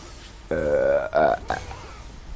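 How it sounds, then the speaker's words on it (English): A person's loud, drawn-out burp close to the microphone, voiced and rising slightly in pitch, followed by a second shorter burst and a brief trailing grunt. "I feel like I have the most ratchet burps ever"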